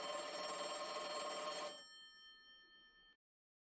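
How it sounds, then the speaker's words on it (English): An old telephone bell rings steadily at night in a quiet room, loud and continuous for under two seconds, then a fading ringing tone that stops abruptly. "Not at all unusual for me to get a phone call in these small hours."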